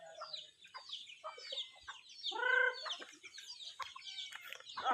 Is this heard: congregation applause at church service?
no